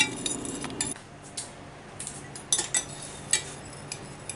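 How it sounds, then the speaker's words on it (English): A metal spoon clinks and scrapes inside a hot glass jar while stirring melted oil for homemade lip balm, with irregular light taps close by and no talk. "And just stir it up, and I think we're ready."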